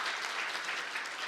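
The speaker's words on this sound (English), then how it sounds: "Can we get a round of applause for Mike McIntyre and Mallory?" An audience applauds for two high school debate championship hosts, a dense, steady wash of clapping from a crowd in a hall, moderately loud and without any voices.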